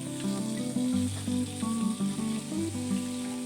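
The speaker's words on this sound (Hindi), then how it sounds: "चिकन डाल के और अच्छी तरह इसकी भुनाई करूंगी" Chicken fries with onions in a pan during bhuna cooking, giving a steady close sizzle with a few stirring scrapes, backed by a continuous tonal hum.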